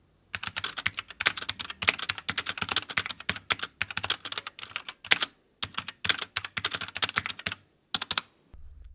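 Rapid, steady typing on a MARVO Scorpion KG962 compact 60% mechanical gaming keyboard, with crisp close-up key clicks in quick bursts and a few short pauses between runs.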